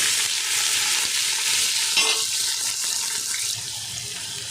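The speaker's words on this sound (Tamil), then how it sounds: "வெங்காயத்தையும் பச்சை மிளகாயும் போட்டுக்கலாம். எல்லாம் வதங்கணும்." Onions and green chillies fry in a pan, giving a continuous close sizzle with a few light stirring scrapes and no talking.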